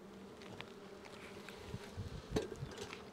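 Close buzzing of many honeybees in an open hive during a spring inspection, a low droning hum with individual insects passing near, plus a few soft handling knocks.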